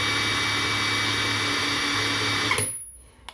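A SUNS cordless impact wrench runs at maximum torque with a steady, loud motor whine and hammering buzz for about two and a half seconds, then cuts off and spins down into near silence.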